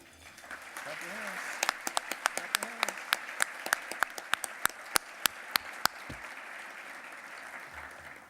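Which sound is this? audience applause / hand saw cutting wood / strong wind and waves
audience applause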